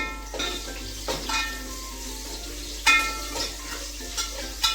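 Onions with turmeric fry in a pan for a village-style sambar, giving a steady close sizzle broken by occasional clinks and scrapes of stirring.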